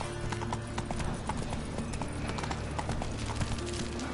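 Horse hooves clip-clop in a steady, close rhythm in The Witcher 3 video game, set against a dense bed of game ambience and music.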